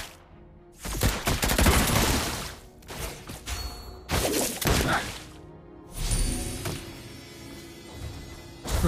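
Rapid bursts of video game gunfire in a Captain of the Reefs match, loud and dense, coming in several volleys with short gaps between them alongside game effects.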